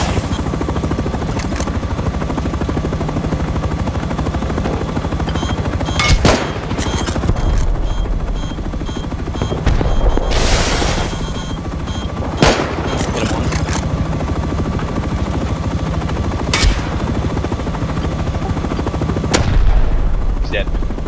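An attack helicopter in the survival game Rust roars overhead while firing, a steady rotor drone punctuated by sharp bursts of machine-gun fire and heavy impacts, loud and close throughout.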